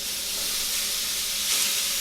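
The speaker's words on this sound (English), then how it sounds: "Get my griddle nice and hot, so I'm going to chop up the onions, take it over, and fire it up on the grill" Chopped onions on a hot griddle give off a steady, close, bright sizzle throughout, with no voices.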